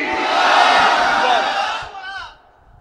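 A large crowd roars a unison chant of Allahu Akbar in response to a takbir call at a religious sermon gathering, loud and sustained for about two seconds before fading into a faint murmur.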